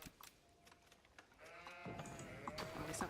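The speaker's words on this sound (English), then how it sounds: "But this is not a map with all the sheep around my base." Sheep bleat around a base in a strategy video game, several wavering bleats overlapping in the second half after sparse clicks, faint overall.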